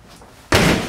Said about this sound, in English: Foot through the door, I'm going to break it.